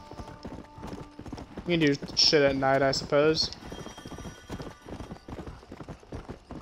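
Horse hooves clip-clop steadily while riding in the Western video game Red Dead Redemption, with a loud neigh in the middle and someone talking over the rhythmic gait.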